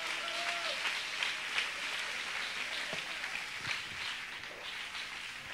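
A crowd at a Spanish-language youth convention church service applauds steadily, with dense clapping and a few sharper individual claps standing out, continuous throughout.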